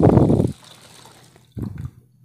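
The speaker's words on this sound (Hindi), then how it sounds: "तो अब हम इसमें ऐड करेंगे पानी" Water poured into a pot of masoor dal for soaking, a full gushing pour for half a second, a pause with faint trickling, then a second shorter splash, close by with no talk.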